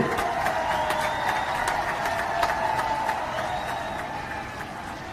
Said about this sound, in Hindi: आग्रह करता हूं सभी लोग तालियां बजाकर तालियों की गड़गड़ाहट से स्वागत करें